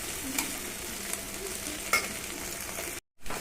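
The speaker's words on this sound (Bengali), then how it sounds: "একটু সামান্য নুন দিয়ে দিলাম, ভালো করে ভেজে নেবো।" Fried rice ingredients with a pinch of salt are stir-fried in a pan, giving a continuous close sizzle with occasional sharp scrapes and clinks of the spatula, then a brief drop to silence before the sizzle resumes.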